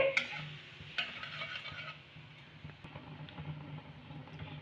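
Asafoetida and nigella seeds sizzling in hot oil in a pan while cooking a dry pickled taro dish: a soft, steady frying hiss with a few light clinks of a utensil, faint and close, with no talk.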